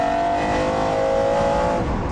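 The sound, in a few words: 627 horsepower sports car accelerating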